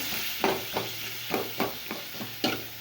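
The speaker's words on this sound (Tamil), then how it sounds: "அப்படியே நல்லா வதக்கி" Tomatoes with chili powder sauté in a pan for chutney: a continuous sizzling hiss with regular stirring scrapes of a spatula every half second or so, close up and without voices.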